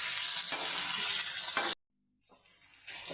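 Ginger garlic paste with tomatoes fries in hot oil while being stirred, a loud crackling sizzle that cuts out abruptly, then returns faint and builds again.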